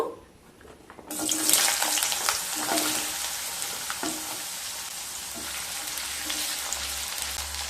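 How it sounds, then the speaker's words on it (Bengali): Potatoes hit hot mustard oil in a kadai after a quiet start, bursting into a loud, continuous sizzle with crackles and stirring scrapes that settle into a steady frying hiss. "এবার আলুগুলো ভেজে নেব।"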